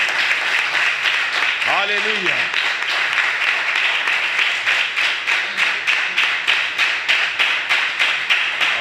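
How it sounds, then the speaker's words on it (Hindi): A church congregation claps steadily through a sermon, a sustained patter of many hands with rhythmic accented bursts, while a preacher's voice rises over it. "जोरदार तालियां खुदा के जलाल की"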